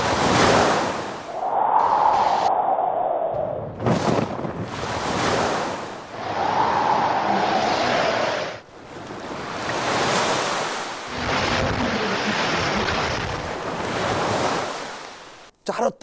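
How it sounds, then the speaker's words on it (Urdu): Storm surf from Cyclone Phailin pounds the sea shore in heavy, repeated wave surges, with strong wind gusting and buffeting the microphone throughout; loud and close, with no voices. "چاروں طرف سے ہوائیں چلتی ہیں، کیسی بدحواسی ہوتی ہے۔"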